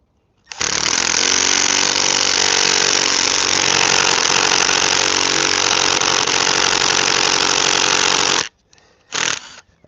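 An impact drill boring into a log, a loud, steady mechanical roar held for about eight seconds before cutting off, followed by a brief second burst, close to the microphone with no talking.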